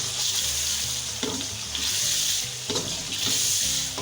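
Spices sizzle and crackle steadily in hot oil for chicken liver masala, a close, continuous frying hiss with occasional stirring scrapes and no talk.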